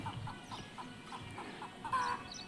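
Chickens cluck in a village among paddy fields, a run of short, evenly spaced clucks close by and fairly quiet, with a brief louder call near the end.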